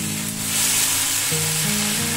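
Tilapia fish fries in a pan with a steady, dense sizzle of hot oil, a loud continuous crackle with a low tonal hum underneath, no talking.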